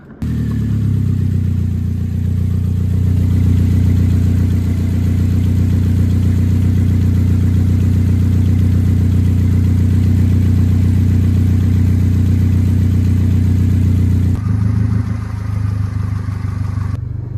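A cheap used Vauxhall Corsa engine running steadily close by with a deep, even hum, suspected of losing coolant, shifting in tone briefly near the end.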